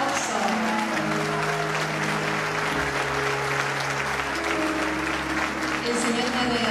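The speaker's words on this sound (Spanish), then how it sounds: "¡Un aplauso!" An audience at a church conference plenary breaks into applause, loud sustained clapping filling the room from start to finish, with a voice and cheering mixed in.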